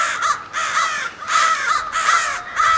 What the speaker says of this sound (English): Crows are definitely in a stir about something.